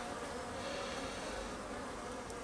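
A colony of calm honey bees drones evenly throughout while a brood frame is checked during a weekly hive inspection, a dense, unbroken buzz and no talking.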